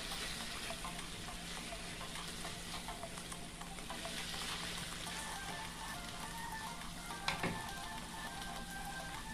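Ackee with pimento berries being stirred in a frying pan, a soft steady sizzle with light scraping from the spoon and a brief clatter near the end, fairly quiet and without speech.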